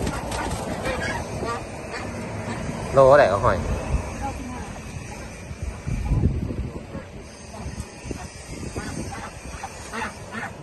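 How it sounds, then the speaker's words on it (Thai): Ducks quack amid a busy outdoor market, with people chatting nearby and a few louder calls rising above the crowd noise. "วันนี้มาออกตลาดกำลังซื้อเป็ด กำลังมาลองซื้อเป็ดกับยาย"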